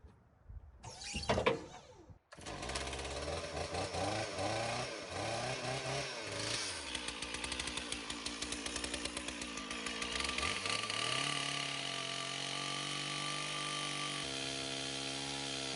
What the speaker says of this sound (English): whack that down with the chainsaw